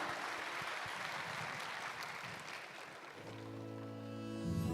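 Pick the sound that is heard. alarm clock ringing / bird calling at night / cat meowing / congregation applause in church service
congregation applause in church service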